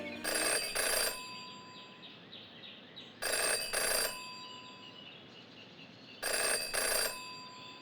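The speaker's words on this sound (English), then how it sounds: "In her short time as a detective, Jenny had learned never to ignore a ringing phone." Old-style telephone bell from the video game Jenny LeClue ringing in three loud double bursts spaced about three seconds apart, each burst a bright trilling ring, with a quiet ambient background and no talk.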